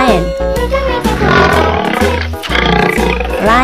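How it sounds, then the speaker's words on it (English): A cartoon lion lets out loud, rumbling roars in a few long, growling bursts, close and filling the sound, with a voice-like quality to the roaring. "Lion."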